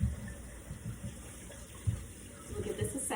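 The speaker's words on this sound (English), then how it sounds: "Now I'm gonna run this water." Hot tap water runs into a measuring cup while pizza dough is being made, a steady gushing splash that carries faintly through the whole moment with a few louder knocks and clunks.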